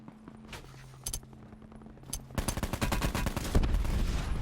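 Rapid bursts of gunfire in the Call of Duty Black Ops 4 Alcatraz map, starting with a few scattered shots and then swelling into loud, dense automatic fire.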